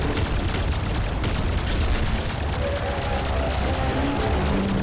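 Explosions in the top-down shooter Nuclear Throne during a boss fight, a dense, continuous barrage of booming blasts and crackling gunfire filling the whole stretch, loud and chaotic with no pauses.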